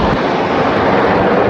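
Red Arrows jet fighter passing overhead outdoors, a loud continuous roaring rush that fills the whole moment without a break or any voices.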